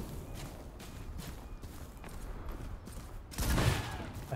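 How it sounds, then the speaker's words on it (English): Enemy gunfire in the video game Enotria, scattered faint shots over ambient game sound, ending with one louder close burst near the end. "he is shooting me over here"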